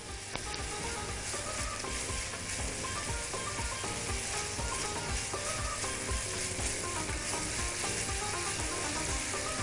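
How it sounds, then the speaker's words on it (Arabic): Onions and grated carrots fry in a pan for a mujaddara dish with a continuous, dense sizzle that stays loud and steady throughout. Faint clicks of stirring sound beneath it. "هستنى بس البصل كده يبتدي يلون معايا بسيط كده واحس انه ابتدى يتكرمل كده عشان ابتدي انزل له الجزر"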